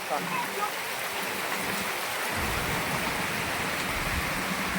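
Steady rain falls over a farm field, a dense hiss that thickens after a couple of seconds, with voices faintly present beneath the downpour.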